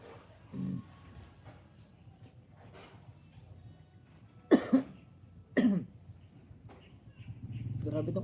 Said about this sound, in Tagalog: Grabe tong ubo.